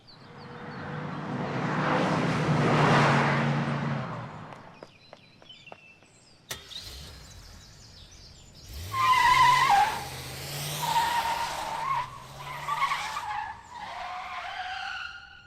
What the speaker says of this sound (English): Car back there. Might be following us.